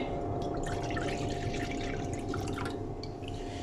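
Fresh orange juice, about 200 ml, poured into a sauce for orange chicken, making a steady, close liquid splashing and dripping stream that runs the whole time with no talking.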